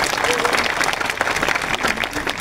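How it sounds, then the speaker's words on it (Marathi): A large crowd at a protest march claps in sustained, dense applause, loud and continuous throughout the moment, with faint voices mixed in beneath it. "जोरदार टाळ्या झाल्या पाहिजे."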